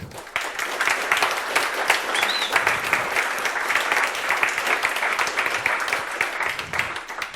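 Audience at a DrupalCamp Finland conference closing session applauding, dense sustained clapping from a crowd that carries evenly for the whole stretch, with no voices standing out.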